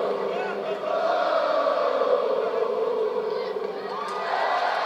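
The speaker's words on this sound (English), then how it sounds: "Damn, this crowd is nuts." A packed wrestling arena crowd on a Raw night after WrestleMania roars and cheers continuously, a loud, dense wall of voices with shouts and whoops, sustained throughout without pause.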